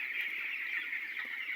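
Twenty-day-old broiler chickens in a coop chirp and peep continuously as a dense, fairly quiet flock chorus, a steady high twittering with no talking over it.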